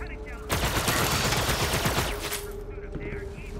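Rapid gunfire in Borderlands 3, a dense burst of shots close and loud over game sound that thins out toward the end, followed by quieter ambient noise.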